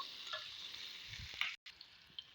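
Chopped onions fry in a pan until browning, giving a faint, steady hiss of sizzling oil with a brief dropout partway through.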